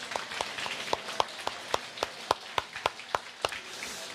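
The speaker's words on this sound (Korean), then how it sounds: "박수로 격려합니다." A church congregation claps in a big room, a loose sparse patter of separate hand claps that comes in steady beats, moderately faint, with no voices.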